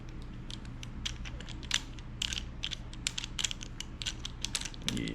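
Plastic ring light parts click and ratchet as a piece is screwed into place, a rapid irregular series of close ticks over a low steady hum.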